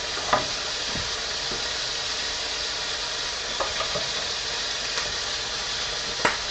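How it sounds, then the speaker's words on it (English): Fries frying in a stovetop pan, a steady bright sizzle throughout, broken by a few sharp scrapes and clinks as they are stirred. "Give our fries a stir."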